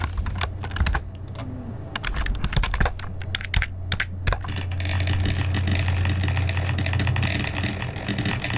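A Python script plays simulated keyboard typing at hyper-fast speed, producing dense, rapid clicking keystrokes that overlap and blur together, with a steady low hum running underneath.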